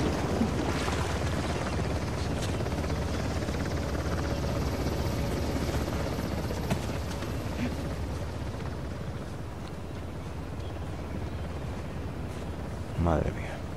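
A helicopter hovers overhead in the video game Uncharted: The Lost Legacy, a loud, steady rotor drone that fills the whole stretch. Someone talks over it.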